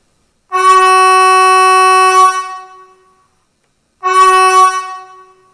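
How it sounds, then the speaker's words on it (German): A deep, brassy low signal horn on an H0 model Vossloh G 1000 BB diesel locomotive sounds twice: a long blast of about two seconds, then a shorter one after a pause, loud and close. "Ein tiefes Signalhorn."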